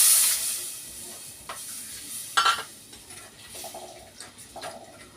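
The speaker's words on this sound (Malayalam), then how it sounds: "ഇനി പുളിവെള്ളം ഒഴിച്ചു കൊടുക്കാം കേട്ടോ." Tamarind water poured into a hot pot of fish curry base with garlic, green chilli and curry leaves: a short hiss and sizzle at the start, then faint stirring and occasional light clinks of the pot.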